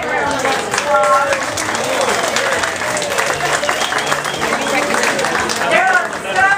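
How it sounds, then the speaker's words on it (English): A sustained round of applause from an audience at a Miss Destin proclamation tied to the Destin Fishing Rodeo, dense steady clapping with crowd noise running throughout, loud and continuous without pause. "let's give her a big round of applause"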